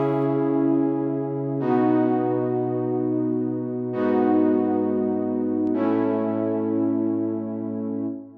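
Sustained synth pad chords ring out, with the low bass note shifting at each change, four smooth chord swells played alone.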